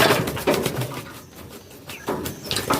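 Small pet birds, pigeons or doves, kept at a home in an African village, coo and call repeatedly over a steady background hiss; the calls are fairly close and moderately loud, with no talking.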